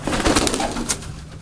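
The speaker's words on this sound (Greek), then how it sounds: "αυτά τα πουλιά, όπως είπαμε, είναι του 1940 νταμάρι" Ntamari pigeons from a line kept since 1940 coo loudly and close by at a 2012 pigeon gathering in Tyrnavos, with a few overlapping rolling coos.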